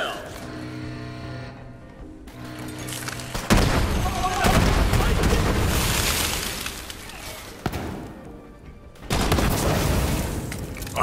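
Borderlands 3 firefight: dense bursts of gunfire and booming explosions pound continuously in loud clusters, easing briefly before another heavy volley, with game music in the opening seconds.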